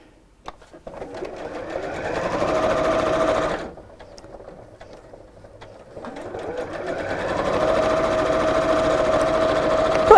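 A sewing machine stitches two fabric pieces together for a half-yard project, running in a loud steady burst, pausing for a couple of seconds, then starting again and running evenly to the end.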